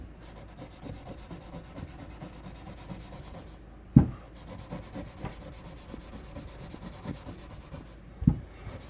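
Pad scrubbed around inside the throat of a bell sprayed with PB Blaster, a steady dry rubbing with a couple of louder knocks, close and fairly quiet with no voices.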